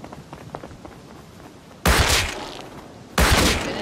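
Gunfire in the survival video game Rust: two loud, sharp bursts of shots, the second a couple of seconds after the first, each followed by a ringing tail, over quieter game background.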